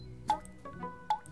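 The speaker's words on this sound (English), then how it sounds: "what is that dripping sound?" Water drips slowly and faintly from a leak indoors, two or three distinct plinking drops spaced apart in a quiet room with nothing else heard.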